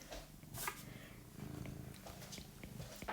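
A small cat purrs close by in a quiet room, a low steady rumbling purr in rhythmic breaths, with a few faint clicks and rustles.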